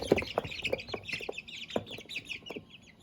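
A three-week-old Barred Rock chick and other young fowl peep and cluck in a holding pen, with a steady run of short chirps and soft clucks nearby and no talk.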